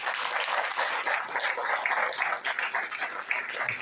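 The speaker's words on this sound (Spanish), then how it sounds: "¿Cuántos le dan un aplauso al Señor?" A church congregation applauds during a general worship gathering, giving a dense, steady wash of many hands clapping at moderate volume with no break, heard from within the room.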